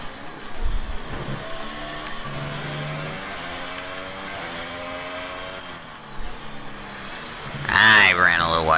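Formula 1 race car engine in F1 2018 at Marina Bay, a loud high-pitched whine rising and falling through gear shifts as the car overtakes, with someone talking over it.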